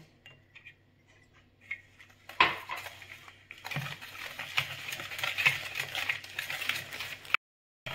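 Sugar being mixed into cake batter with eggs for a rose cake, heard as quiet scraping and clinking of a utensil against a bowl in irregular stirring strokes.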